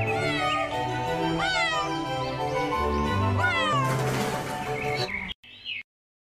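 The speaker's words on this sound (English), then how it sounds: "C for cat." Several loud, drawn-out cat meows follow one another over a musical backing in a children's alphabet song, then stop abruptly, leaving a brief faint tail before silence.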